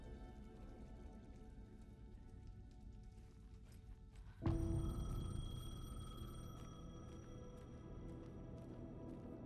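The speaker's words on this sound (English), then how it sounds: "The payphone was ringing." A payphone in Alan Wake 2 suddenly starts ringing halfway through, a bright sustained electronic bell tone cutting in over steady rain-like ambience and continuing to the end.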